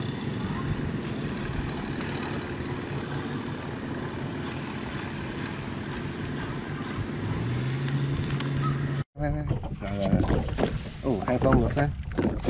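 A long-tail boat engine, a car engine fitted to a small Vietnamese vỏ lãi boat, drones steadily for several seconds, then cuts out abruptly; afterward a voice speaks briefly over quieter water and background noise.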